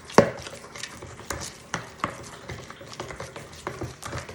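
Honey soy chicken marinade stirred together in a bowl, a utensil clinking and scraping against the side in a loose rhythm of close, moderately quiet knocks.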